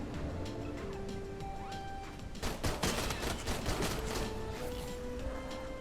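Gunfire in the Australian indie horror video game Clawed, a run of sharp shots firing in quick succession through the middle of the clip over a steady ambient game drone, fairly loud against the background.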